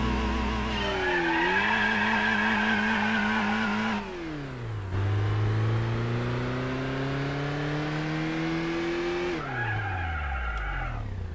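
Turbo race car in Gran Turismo 4 revs through gear changes, engine pitch climbing and dropping repeatedly, with tire squeal and a steady skidding whir, loud and close, no talk.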